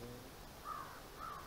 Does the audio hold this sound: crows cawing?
yes